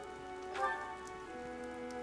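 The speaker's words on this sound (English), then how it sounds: "The rain is really coming down now." Rain falling in the Fire Emblem: Three Houses game, a soft steady patter under a sustained musical tone, faint and continuous with no talk.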